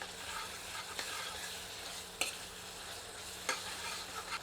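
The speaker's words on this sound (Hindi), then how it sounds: "सबको अच्छी तरह मिलाकर 2 से 3 मिनट मध्यम आंच पर भूनते हैं।" Ivy gourd bharta with turmeric and salt frying in a pan over medium heat, a steady close sizzle with a few sharp spoon scrapes and stirring knocks over the hiss.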